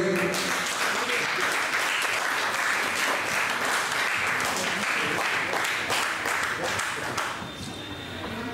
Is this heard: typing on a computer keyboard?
no